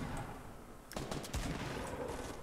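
Gunfire in Fortnite Battle Royale, a short volley of rapid shots crackling a little distance away over a faint background, bursting suddenly and then easing, with no talking.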